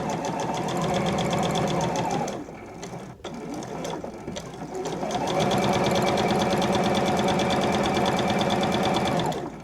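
Sewing machine stitching fabric fed through a bias tape maker, a fast, even mechanical whir of needle strokes running loud and close, dropping out briefly in the middle, then resuming steadily.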